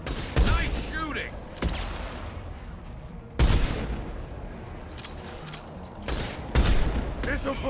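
Gunfire in Mass Effect 2 booms out in several separate heavy bursts amid a busy combat mix, with voices heard between the shots.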